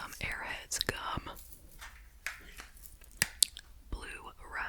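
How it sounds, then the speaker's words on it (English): Blue raspberry Airheads gum is chewed close to the microphone, with soft wet smacks and clicks mixed under quiet whispering. "chewing some Airheads gum."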